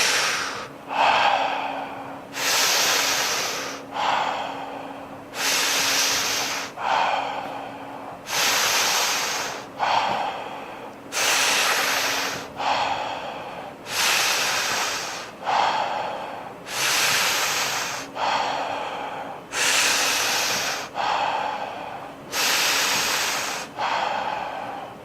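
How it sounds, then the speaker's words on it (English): A person breathes deeply and forcefully in and out in a steady rhythm, with about a dozen loud, rushing breaths close to the microphone and short pauses between them, and no talking. "I'll breathe with you for the first few, so we'll be breathing in."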